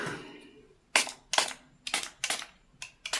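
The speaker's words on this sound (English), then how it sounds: "Alright, so I'm going to spray some alcohol." Several short, sharp spritzes of alcohol from a spray bottle come in quick succession, close by, with brief quiet gaps between each burst.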